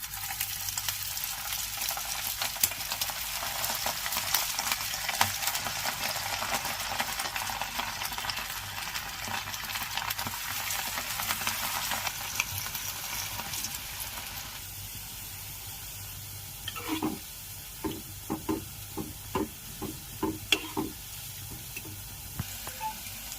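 Cauliflower pieces for gobi manchurian fry in hot oil in a pan, a steady sizzle at first that thins out, followed by a run of sharp clinks and scrapes from stirring.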